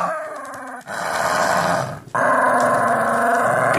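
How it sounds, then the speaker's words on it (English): A Lhasa Apso growls in close, loud, sustained rumbles broken by two brief pauses, with snarling bursts but no clear separate barks. "And he's barking."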